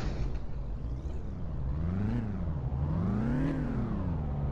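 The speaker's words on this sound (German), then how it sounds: "Die klingt wirklich erschreckend arg nach angebautem Auspuff." A Suzuki Liana engine drones steadily in the game City Car Driving, its exhaust note rising and falling as the revs swell and ease, close and continuous throughout.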